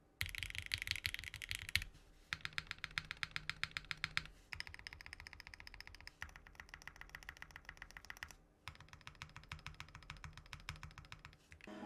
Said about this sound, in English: And this is like a bit of a harder tap if you're a harder typer.